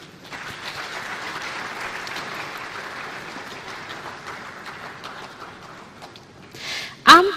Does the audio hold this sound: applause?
yes